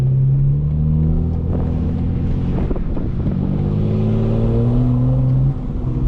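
A 2025 BMW M4 in rear-wheel drive mode with burbles off accelerates hard, its engine note rising in a loud, continuous rumbling climb from inside the car, with no talk over it.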